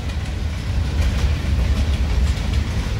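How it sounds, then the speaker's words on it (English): Train rolling past nearby, a loud continuous rumble with faint rhythmic wheel clatter and no one talking. "We're watching a train."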